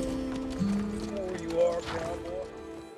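A man rides a horse through the town of Amador in a cowboy film, hooves clip-clopping steadily under a full mix of music and dialogue.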